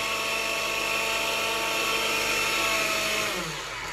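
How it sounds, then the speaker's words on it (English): Electric grinder whirring as it grinds pepper and onions, a loud continuous high-pitched motor whine held steady, then dropping in pitch as it slows near the end. "I'm grinding the pepper and the onions"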